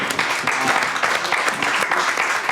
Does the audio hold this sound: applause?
yes